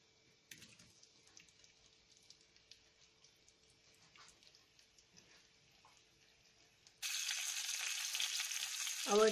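Dal tempering hitting hot ghee for dal makhani: soft scattered clicks and faint kitchen noise at first, then a sudden loud, steady sizzle bursts in and holds close up until the end.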